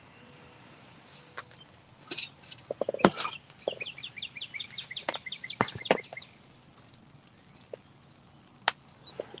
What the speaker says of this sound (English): Okay, that's just a hen.